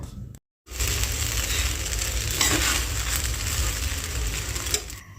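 Potato and green chilli fry in ghee with a loud, dense, steady sizzle and occasional stirring scrapes, close up after a brief silent gap at the start, with no voices.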